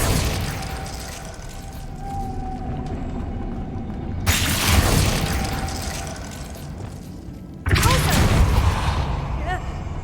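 Ice spell casting in the Hogwarts Legacy video game, heard as loud broadband bursts of magic impact amid game ambience, two sharp onsets with crackling bright tails and a rumbling low end, with a voice speaking nearby.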